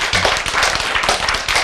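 An audience at a Korean health lecture on healthy eating claps briefly, a dense burst of many hands together, close and lively, with no talk over it.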